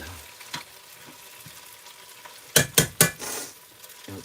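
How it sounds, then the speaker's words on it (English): Chicken skin sizzles as it browns in an Instant Pot, a steady close frying hiss broken by a few sharp bursts of louder spattering near the end. "we definitely want to get that skin nice and browned"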